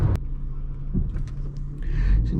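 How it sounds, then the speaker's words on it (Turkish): A 2012 Fiat Albea 1.4 cruising in fifth gear at 3000 rpm, with a steady low engine and road drone heard from inside the cabin. "Şu anda 5. viteste 3000 devir 105 ile gidiyor."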